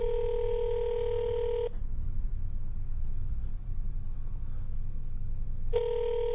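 A landline telephone rings unanswered through the handset: two ring tones, one at the start and one near the end, separated by a long gap of low line hiss and rumble.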